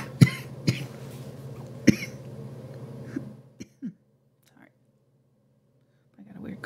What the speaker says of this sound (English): I got a weird cough there.